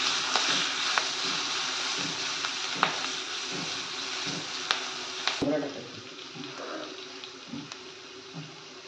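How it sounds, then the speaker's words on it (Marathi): Cut green chillies roasting in a pan for a traditional Maharashtrian chutney, a crackling sizzle with rhythmic utensil scrapes and taps, close, fading quieter after a sharp knock midway; no talking. "टाकते आहे मिरच्या, तुकडे केलेले आहेत मिरच्या. हे थोडं भाजून घेते."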